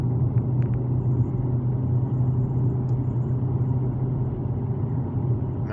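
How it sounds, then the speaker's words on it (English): A Dodge Scat Pack engine warms up at a steady idle, a continuous deep rumble that holds level throughout with no one speaking. "Just letting the engine come up the temperature."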